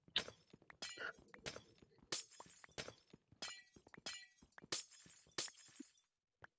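Glass blocks shatter in Minecraft, about a dozen sharp crashing breaks in quick succession, fairly close and alone, followed by a brief soft pop.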